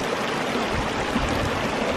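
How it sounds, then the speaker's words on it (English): A mountain stream flows in a steady, loud rush of water, close and continuous, with no voices over it. "She's watching that water move like, whoa, I wanna play in this."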